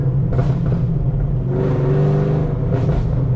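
A 1000-horsepower Camaro ZL1 with a cammed engine accelerates on a back road, its loud, steady engine roar rising and swelling through the middle of the pull, heard from inside the car with no talk.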